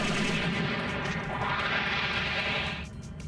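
Beam turrets blasting in the Robotech: Battlecry video game, a rapid, continuous burst of loud automatic firing that holds steady before trailing off near the end, with no speech.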